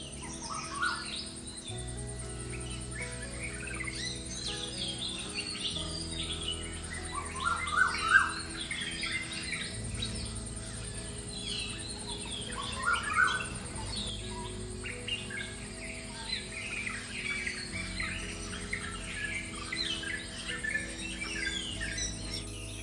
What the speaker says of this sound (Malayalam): അതിൻ്റെ കൂടെ കിളികളുടെ സൗണ്ടും ഒക്കെ ആയിട്ട് ആ മോർണിംഗ് വൈബ്